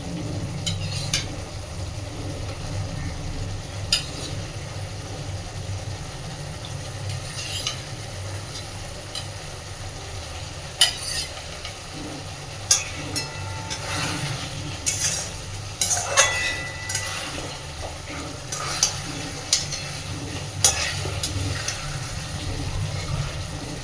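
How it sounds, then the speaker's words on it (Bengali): Fried rohu fish pieces stirred into a sizzling spice paste in a pan with oil, a steady frying hiss with scraping spatula strokes and a few sharp clinks, close and continuous, no talk. "এই পর্যায়ে আমি ভেজে রাখা মাছগুলোকে এখানে দিয়ে দিচ্ছি।"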